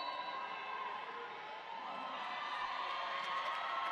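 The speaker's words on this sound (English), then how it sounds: "Crowd is, of course, a home team crowd, losing their minds over this huge jam for Helga Hufflepunk." A home crowd at a roller derby game cheers and shouts in a sustained, dense roar that holds steady for the whole stretch and sounds moderately distant.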